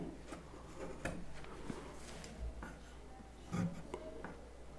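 A pencil sketches a semicircle on paper for a geometry construction, giving faint, scratchy rubbing strokes and small taps scattered over several seconds against quiet room noise.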